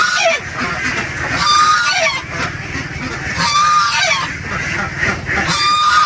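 Geese honk noisily and repeatedly at close range on a duck farm, loud overlapping calls rising and falling in bursts.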